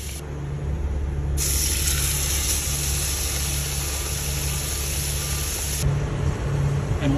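A 1.14-pound ribeye sizzles steadily in a pan inside a car with the windows down, a broad hiss that swells for several seconds over a low, constant engine-like hum.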